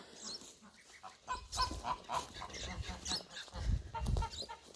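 Laying geese in a backyard garden honk and cackle loudly and close by, in repeated bursts that build toward the end, mixed with some chicken-like clucking.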